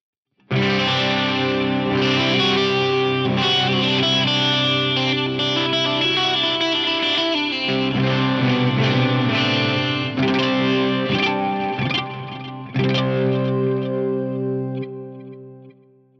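Electric guitar's 12-string neck on a doubleneck instrument, strummed chords ringing full and loud through chorus and distortion effects, sustained jangling tones for around fifteen seconds with no talking.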